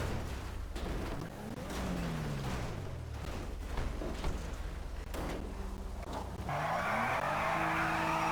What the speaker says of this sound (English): its only real merit is that it can rip a pretty decent front-wheel drive burnout